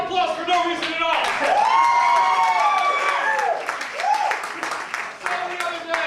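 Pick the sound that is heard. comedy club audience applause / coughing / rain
comedy club audience applause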